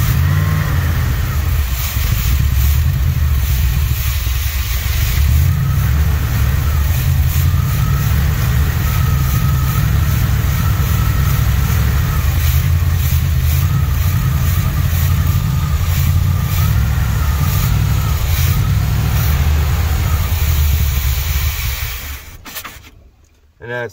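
Carbureted car engine with a massive vacuum leak from an unhooked PCV line, running steadily and loudly up close with a continuous low rumble and repeated revs, then cutting off near the end.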